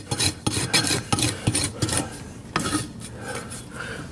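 A farrier drags a rasp across a horse's hoof in a run of quick, rough, scraping strokes, loud and close, then finishes with a few lighter passes.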